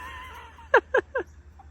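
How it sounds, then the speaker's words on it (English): Young Leghorn roosters give three short, quick clucks close by, sharp and evenly spaced, against a quiet background. "Just young little roosters."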